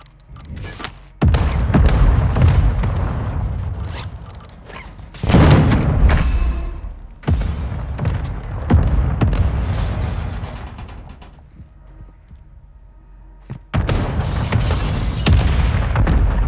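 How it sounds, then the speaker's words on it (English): Mortar strikes land in Call of Duty Warzone as a series of heavy, booming explosions, about five deep blasts spaced several seconds apart. Each one rumbles and then tails off, with little talk between them. "Mortar strike on the way."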